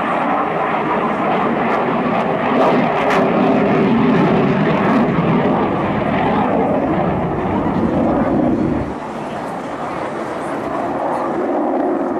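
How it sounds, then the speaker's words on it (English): A QF-4E Phantom jet fighter makes a flying pass at a military air show, its engine roar loud and steady for several seconds before dropping off, with crowd and announcer noise faint beneath it. "Please direct your attention now to the right for the F-4 dedication pass."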